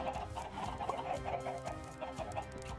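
Chickens clucking in the Minecraft video game, a steady run of overlapping clucks at moderate level over a continuous background hum, with no talking.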